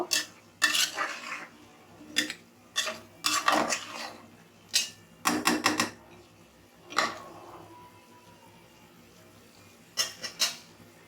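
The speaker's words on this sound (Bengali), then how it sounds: "এখন ভালো করে বুটের ডাল আর মাংসের সাথে নাড়িয়ে মিশিয়ে নিব।" Chana dal and beef are stirred in a pot for a beef curry, metal spoon scraping and clinking against the pan in irregular close bursts separated by quiet pauses.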